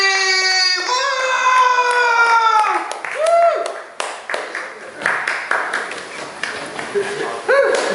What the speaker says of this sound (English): Come on, start clapping.